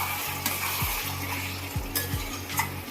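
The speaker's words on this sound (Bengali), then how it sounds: "গরম মশলার গুঁড়োটা দিয়ে ভালো করে মশলাটাকে নেড়ে" Spice masala with garam masala powder is stirred in a frying pan, giving a soft sizzle under repeated scraping strokes of a spoon against the pan, close and fairly quiet, with no talking.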